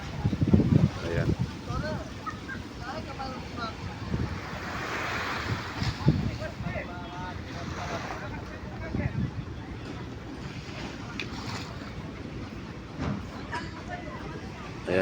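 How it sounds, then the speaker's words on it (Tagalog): Strong gusty wind buffets the microphone over the steady wash of surf on a beachfront in El Nido, Palawan, while people talk intermittently underneath. "Medyo malakas yung hangin, no?"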